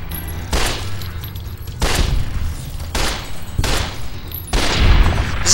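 Gunfire in the video game Fallout: New Vegas, four loud booming shots spaced about a second apart, each with a long rumbling tail and no talk over it.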